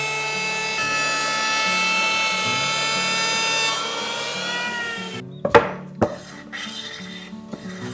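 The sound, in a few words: electric planer smoothing Japanese cypress board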